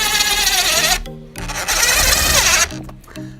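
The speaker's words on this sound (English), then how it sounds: "It's going to take just a second for it to drill the hole first." A power drill whirs in two loud bursts with a short pause between, grinding as the bit drills a screw hole through a metal bracket of a sliding patio door security bar, close and steady.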